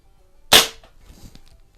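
One sharp, close airgun shot from a Crosman 2240 fitted with a 1/2-20 suppressor, a single crisp crack that fades quickly into faint room noise.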